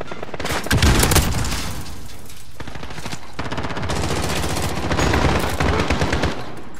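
Rapid automatic P90 fire in Modern Warfare gameplay rattles in long, dense bursts, loud and close, with short pauses between volleys and heavy booming impacts underneath.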